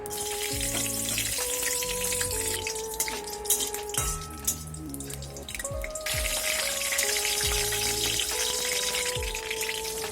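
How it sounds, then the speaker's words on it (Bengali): Whole garam masala and dried red chillies frying in hot oil in a kitchen pan, a steady loud sizzle with crackles and occasional clinks of a utensil, no voices. "শুকনো লঙ্কাগুলো ভেজে নেব। ভেজে নিয়েছি, এখন দিয়ে দিচ্ছি গোটা গরম মশলাগুলো।"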